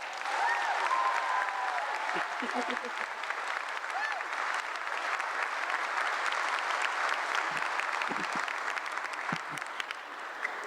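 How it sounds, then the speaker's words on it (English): Continuous applause from a college commencement crowd welcoming the college president, broad and steady throughout, with scattered cheers and brief voices rising through it. "I ask you all to give a warm welcome and applause to our president for Parkland College, Dr. Pamela Lau."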